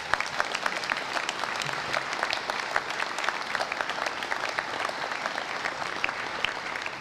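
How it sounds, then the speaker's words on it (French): Applause from the public for the security forces at a New Year's greetings ceremony, continuous crowd clapping heard from a moderate distance, steady and fairly soft. "Applaudissez les forces de sécurité,"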